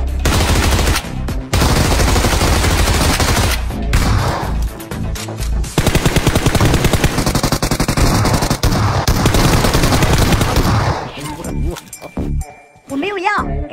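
Rapid bursts of machine-gun fire and gunshots from a PUBG-style battle-royale match at a port, loud and near, with repeated volleys and brief pauses while players talk over the fighting.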